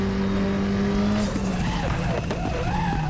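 A race car brakes hard at Anderstorp in Sweden: a loud, steady engine drone drops in pitch as the car slows, with tire squeal and harsh mechanical noise filling the whole clip.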